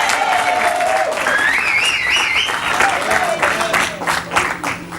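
A church congregation at an evangelical service applauds the Lord, dense continuous clapping over about five seconds, with voices and melodic singing or ululation rising above it.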